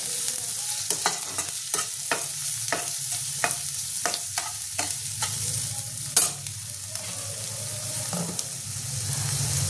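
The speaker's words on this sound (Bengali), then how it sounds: "এটা ভালো করে একটু নাড়াচাড়া করবো" Onion, grated ginger and garlic, and chopped tomato are stirred in a hot pan for a prawn curry, with steady sizzling and repeated spatula scrapes in an even rhythm, close by and without talk.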